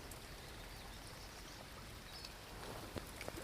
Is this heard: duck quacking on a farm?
no